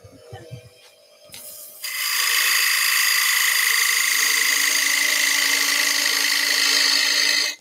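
A wood lathe turns a bowl as a gouge cuts shavings. A few quiet knocks come first, then a loud, continuous, harsh cutting whine starts and holds steady close up until it stops at the end.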